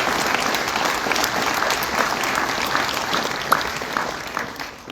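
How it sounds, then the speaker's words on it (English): Sustained applause fills a sled dog race awards banquet room, a dense even clatter of many hands clapping that fades slightly at the end. "Let's give all these folks a round of applause."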